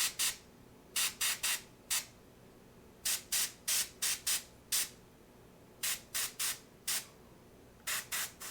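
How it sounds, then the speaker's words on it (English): Airbrush spraying paint onto a miniature in short, repeated hissing bursts, grouped in quick clusters of two to four with brief pauses between, close and fairly loud against a quiet background. "I can hit quite small areas with this airbrush."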